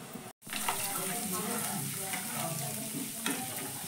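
Sago pearls frying in oil give a steady, faint sizzle with bubbling crackle throughout, broken only by a brief silent gap near the start.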